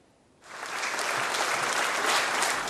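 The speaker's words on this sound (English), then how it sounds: "A well-deserved round of applause" Parents and guests applaud young Year 3 and 4 student authors at a school book launch, the clapping rising quickly from a quiet room into a loud, dense, sustained wash.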